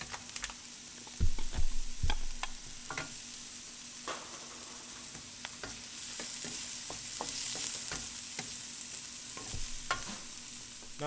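Garlic and red onion sautéing in a pan, a steady low sizzle broken by scattered clacks and scrapes of a utensil stirring, with no one talking.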